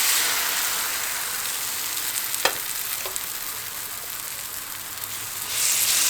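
Omelette batter made with chickpeas sizzles and crackles in a lightly oiled pan, a steady hissing fry with a couple of clear ladle or spoon clicks and the sizzle swelling louder near the end.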